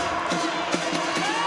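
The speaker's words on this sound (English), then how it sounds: "the crowd starts to get into it here" A basketball crowd cheers and whoops continuously through the arena, with scattered shouts rising above a broad roar while the play-by-play commentary carries on over it.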